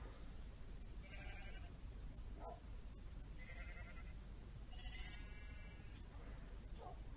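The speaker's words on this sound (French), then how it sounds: "il y a le mouton là, il fait..." Sheep in a video game bleat several times in short, wavering calls spread across the clip, heard against a constant loud noisy background.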